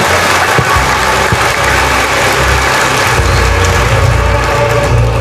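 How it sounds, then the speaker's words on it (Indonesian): Audience applause at a motivational gathering, dense steady clapping from many people that blends into a loud, continuous wash with a low rumble underneath. "Tepuk tangan untuk Bapak Ibu sekalian."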